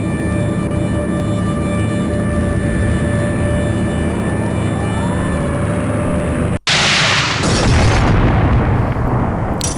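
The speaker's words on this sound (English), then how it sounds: "Explosion." A loud explosion bursts in the Titanic: Adventure Out of Time video game, a sudden booming blast that breaks into a sustained drone and then rumbles and roars for several seconds.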